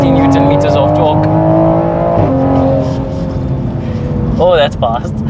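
A Toyota GR Supra tuned to 600 hp, about 400 wheel kilowatts and 750 Nm, accelerates hard on a normal map. Its loud engine climbs steeply in pitch, dips briefly at a gear change, then climbs again while people talk over it.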